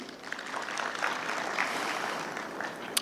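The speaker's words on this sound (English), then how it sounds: "Round of applause, please." A conference audience at a microfinance event applauding, a dense, steady wash of clapping from many hands, moderately loud and continuous with no voices over it.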